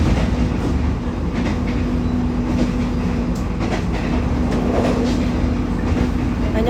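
Steady rhythmic clatter of train wheels over rails heard from inside a moving passenger train, loud and continuous with a faint hum and occasional squeaks.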